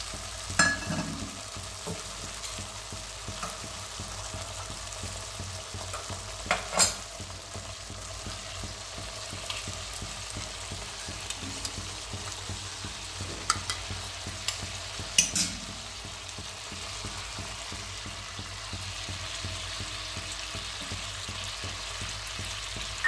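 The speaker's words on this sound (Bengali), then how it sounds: "এবার আমি এই বাদাম ধোয়া জলটা দিয়ে দিচ্ছি।" Cashew soaking water going into a sizzling onion-free masala for a vegetarian kaju curry, with a steady frying hiss, scraping stirs and a few sharper splashes and clatters along the way.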